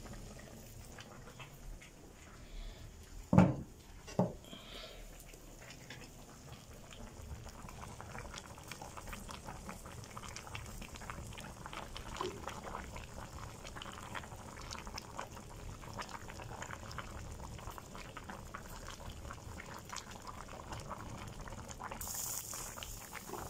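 Güveç stew cooks in a clay pot on a wood stove, bubbling softly and steadily at low level, with a couple of sharp knocks early on.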